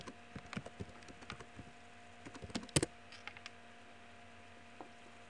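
Password keys tapped on a computer keyboard in short, irregular bursts of faint clicks, with one brief denser flurry midway and a single stray keystroke near the end, in a quiet room.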